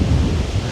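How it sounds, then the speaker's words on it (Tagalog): Strong wind at Bulabog Beach in Boracay, among coconut palms, buffets the microphone in a brief, loud, rumbling gust. "grabe yung lakas ng hangin, no?"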